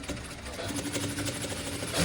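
A sewing machine runs steadily, stitching a 1 cm seam along the lower edge of a vest, with a continuous close mechanical whir and no speech.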